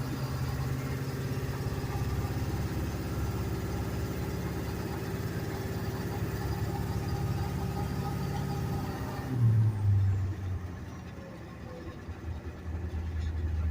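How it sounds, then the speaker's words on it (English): A 2001 Amtrans International 71-passenger school bus with a 7.3 diesel engine idling: steady low rumble and clatter for about nine seconds, then a brief revving surge before it settles back to a quieter idle. "Very nice running bus."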